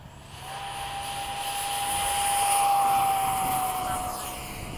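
Skysword model rocket, pink, on its maiden flight at a launch field, a steady broadband rush with a thin tone that swells toward the middle and then eases, heard from a distance with no talk.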